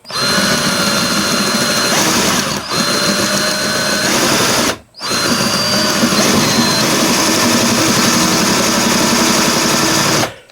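A cordless right angle drill whines loudly and steadily while drilling a hole, pausing briefly twice before spinning up again, close by with no talking.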